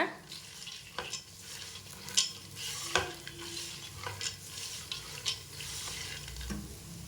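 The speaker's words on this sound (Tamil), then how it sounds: "சிம்லேயே வச்சு நல்லா வறுத்துக்கோங்க." Pori snack roasts in a pan over a low flame, a soft continuous sizzle and rustle broken by scattered scraping stirs and light clinks, close and fairly faint.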